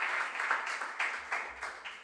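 Audience at a junior science and maths quiz regional qualifier clapping for contestants, a short burst of moderately faint applause with uneven surges.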